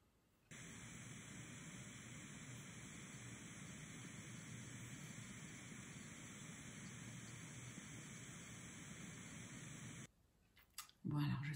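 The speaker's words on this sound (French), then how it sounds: "10 secondes pour tester le bruit blanc" Steady broadband white noise hisses evenly and alone for about ten seconds, a constant featureless wash that cuts off abruptly near the end.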